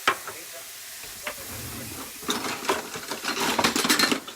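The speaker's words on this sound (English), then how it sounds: "I'm just going to stir that up 2 or 3 minutes" Keto gravy made with heavy whipping cream bubbles and sizzles in a pan while a utensil scrapes and clinks against the metal, the stirring growing busier and louder toward the end.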